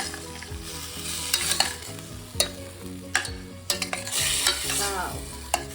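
A curd mixture for soya potato pulao sizzles loudly in a pan while a spoon stirs it, with repeated sharp scrapes and clanks over a constant crackling fry.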